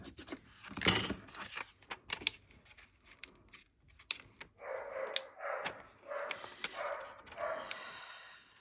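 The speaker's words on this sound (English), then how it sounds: "the dog is barking." A dog barks in short bursts, some distant and some closer, with a rhythmic run of yips in the second half amid faint rustling.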